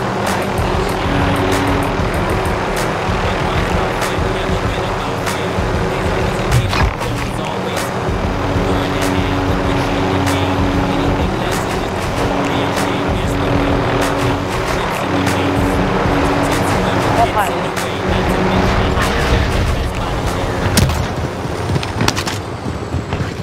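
A helicopter hovers and flies overhead in the Call of Duty Modern Warfare video game, a loud, steady rotor and engine drone holding throughout with game noise layered over it.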